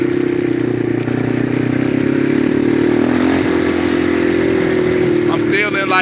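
A four-wheeler engine runs in third gear, a loud, steady droning roar that holds nearly constant and rises slightly in pitch, with the rider's voice mixed in.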